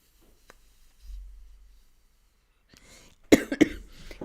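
A person coughs a couple of times, close and fairly loud, after a quiet stretch of breathing out during a guided breathing exercise.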